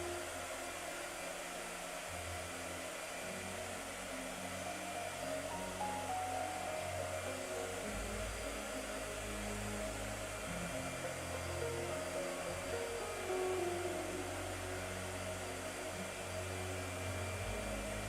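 A blow dryer runs steadily and continuously at close range, a constant airy whoosh with a low motor hum and no pauses or talk.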